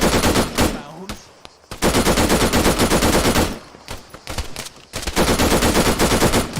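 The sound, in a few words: machine gun suppressive fire in Arma video game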